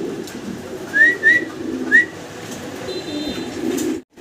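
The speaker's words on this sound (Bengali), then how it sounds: "অসাধারণ সুন্দর সুন্দর কালারের লাহোরি কবুতর।" Lahori fancy pigeons give three short, clear calls close by, followed by a fainter high whistle, over a steady low murmur from the birds, and then a sudden stop.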